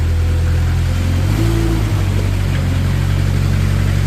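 A 2014 Moffett M55 truck-mounted forklift runs with a steady, loud engine drone while its mast moves in and out, and a brief hydraulic whine rises over the engine partway through, with no talking.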